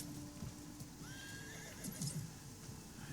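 A horse in a video game whinnies in a short rising call amid hoof clip-clops and background game ambience, heard at moderate distance with no talk.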